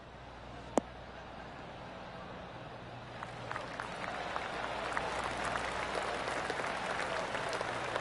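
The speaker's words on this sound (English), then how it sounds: "Oh, golf clap." Spectators on a golf course break into a light, scattered golf clap after a single sharp crack of a shot, the soft patter building and holding steady for several seconds without talk.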